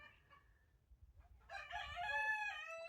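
A rooster crows loudly in a garden setting, a long harmonic call rising over the last half, preceded by softer squawking and agitated clucking from upset chickens.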